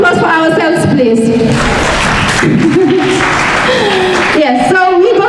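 Audience at a college quiz event in Brikama, Gambia, giving a round of applause, loud close clapping mixed with voices and music that carries across the whole short stretch.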